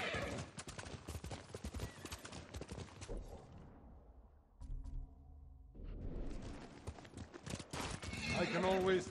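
Horses trotting and neighing in the video game Ghost of Tsushima, steady clip-clop hoofbeats with whinnies over a busy game soundscape and music, briefly dropping to a quieter passage before the hooves return.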